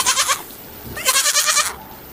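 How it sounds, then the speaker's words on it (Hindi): Two goat bleats in a cartoon story, each a short wavering cry, loud and close, with a brief pause between them and no talking. "अरे, ये बकरी की आवाज कहाँ से आ रही है?"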